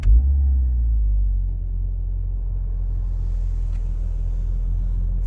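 A MINI Countryman JCW idles with a deep, steady engine and exhaust rumble, loud and close, holding an even low drone after a brief swell at the start.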